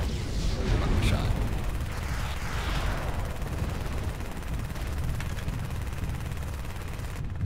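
Machine gun fire in MechWarrior Living Legends, a loud, continuous rattling barrage with scattered sharper bursts over a constant low rumble, as players talk over it.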